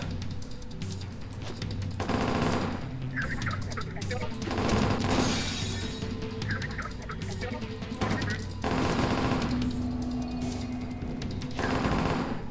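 Rapid gunfire in the shooter game Ronin, dense bursts of automatic fire layered with game effects and music, loud throughout with a few stronger peaks.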